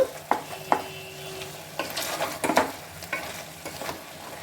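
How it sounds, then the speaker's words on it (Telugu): Chicken curry frying in a pressure cooker pot while being stirred until its water dries off, a soft sizzle broken by repeated sharp spoon scrapes and clinks against the metal. "ఇది బాగా ఇంకిపోయేంత వరకు వేపుకుందాము"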